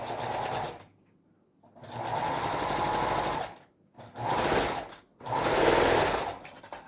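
A sewing machine stitches a dart on the fabric body of a Santa Claus doll in four loud, fast-buzzing runs separated by short pauses.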